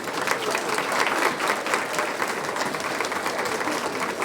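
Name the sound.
audience applause after band performance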